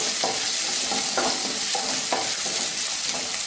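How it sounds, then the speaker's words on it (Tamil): Small onions fry and are stirred in a pan for a mango chutney. A loud, steady sizzle carries regular scraping strokes of the spoon, up close, with no voices. "நல்லா அந்த வெங்காயம் ப்ரௌனாக நல்லா வேகட்டும்."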